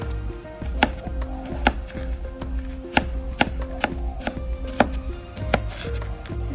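Knife chopping red onion and garlic into small pieces on a board: a steady series of sharp, close chops at an even rhythm, with faint background hum and no talk.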